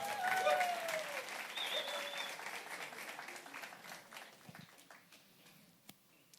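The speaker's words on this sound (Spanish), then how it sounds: "Un aplauso para los líderes de Lazarot" Audience applause for the leaders during a church sermon, a broad wash of clapping that starts loud and gradually thins and fades, with a few scattered claps near the end.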